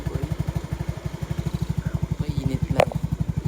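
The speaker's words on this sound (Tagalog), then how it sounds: "Park mo natin yung motor." A motorcycle engine idles close by with a rapid, even putter while the bike is being parked, and a brief clatter sounds near the end.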